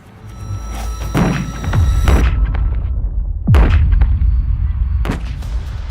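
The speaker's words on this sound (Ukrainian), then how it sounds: "Зараз воно вибухне." Several heavy booming blasts of landmines detonated by a demining harrow go off one after another, loud and rumbling, each leaving a long low roar behind it.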